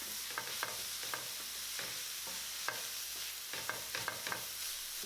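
Vegan broccoli slaw fried rice being stirred in a hot pan, with a steady background sizzle and repeated scraping clicks of the utensil against the pan, no voices.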